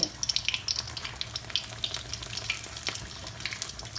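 Pork sizzling as it deep-fries in hot oil, a steady close crackle with sharp popping spatters scattered throughout, fairly quiet and heard on its own.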